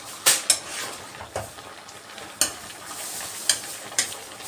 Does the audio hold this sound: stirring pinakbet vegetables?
yes